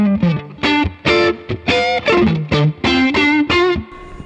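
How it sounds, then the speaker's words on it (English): Electric guitar through a tube-screamer-style overdrive pedal with light crunch, playing a loud, close run of ringing notes and chords in short phrases separated by brief gaps. "That typical kind of light crunchy sound."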